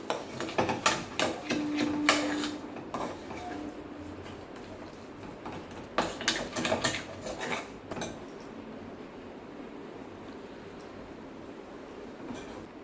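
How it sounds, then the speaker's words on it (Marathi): Metal spoon clanking against a cooking pot while cardamom powder is stirred into a sweet puran filling on the stove, with clustered scraping clinks in bursts and quieter stretches between. "वेलची पूड पण छान मिक्स करायची."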